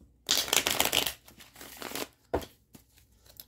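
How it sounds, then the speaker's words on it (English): Tarot cards being shuffled by hand, a loud riffling burst lasting a couple of seconds, then a pause and a few quieter card flicks and taps nearby. "let's shuffle this one more time"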